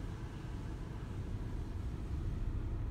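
A Laser Wash 4000 automatic car wash soaks a car from inside, giving a steady low rushing roar of spray and machinery that stays even and fairly soft throughout, with no talking.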